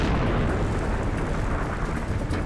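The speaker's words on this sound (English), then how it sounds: "A series of massive explosions created a crater a mile wide." Massive volcanic steam explosions rip rock apart to blast out a crater a mile wide, a continuous loud roaring rumble with no pauses, heard alone with no voices.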